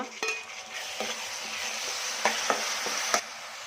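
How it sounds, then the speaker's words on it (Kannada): Three tomatoes frying in hot oil in a pan for a drumstick gravy, a steady loud sizzle broken by sharp spoon-stirring clinks against the pan, with no one talking. "ಟೊಮೊಟೊ ಹಾಕ್ತಾಯಿದ್ದೀನಿ"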